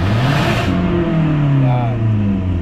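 A 2016 Toyota Avanza with a clogged catalytic converter revs loudly and steadily up close, the engine tone rising then settling. A voice is faintly present.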